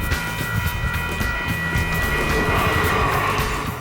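An ETS light rail train in motion gives a loud, steady rolling rumble with a constant mechanical drone and faint rail clatter, alone without talk.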